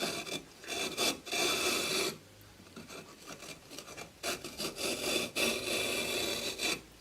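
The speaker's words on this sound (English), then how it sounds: "if you cut those lines out with the pad saw" Hand-held pad saw cutting grooves into a brick while building a kiln, a gritty back-and-forth rasping in uneven bursts with brief pauses, close but fairly quiet and without talk.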